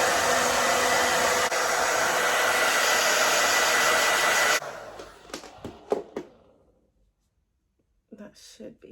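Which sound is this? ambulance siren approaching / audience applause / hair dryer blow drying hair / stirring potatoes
hair dryer blow drying hair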